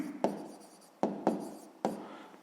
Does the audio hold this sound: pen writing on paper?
yes